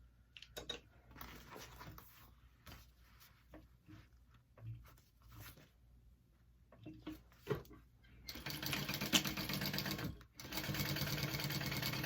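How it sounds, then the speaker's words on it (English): Sewing machine stitching a handbag lining and zipper pocket lining together at a 3/8 inch seam, starting with short stop-start bursts and clicks, then settling into a loud continuous whir. "I'm going to sew that together at a 3/8 inch seam allowance"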